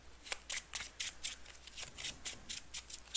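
Playing cards being shuffled for an Arkham Horror card game, heard as a quick run of soft, crisp riffling flutters, about a dozen in rhythmic succession, fairly quiet and close with no talk.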